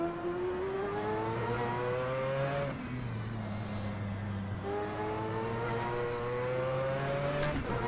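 A Mazda 787B race car screams around Spa in a racing sim, its engine climbing through the revs, dipping sharply at gear changes and climbing again, loud and continuous with no voices.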